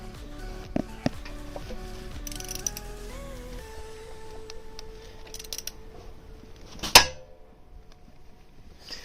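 A Ford Raptor engine with lower-end problems, heard up close: irregular metallic clicks and ticks over a faint mechanical whine, with one sharp loud knock near the end and no voices.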